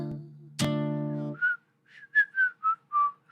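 A person whistles a short series of clear, bright notes after a brief sung or hummed tone, each note separate and close to the listener.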